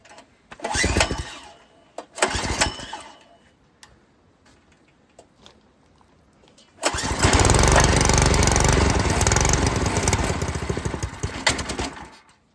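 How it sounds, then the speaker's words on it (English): A freshly rebuilt Predator 212 small engine sputters in two short bursts, then catches and runs loud and rough for about six seconds before cutting out. "it backfired out of the carburetor that time"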